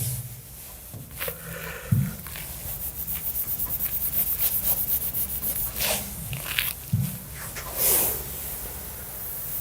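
Answer options rubbed out on a board, heard as close, rhythmic scrubbing strokes in repeated bursts, with a few knocks in between.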